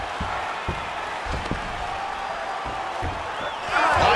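Arena crowd at a mixed martial arts fight, a steady roar of cheering with scattered thuds and shouts, swelling louder near the end.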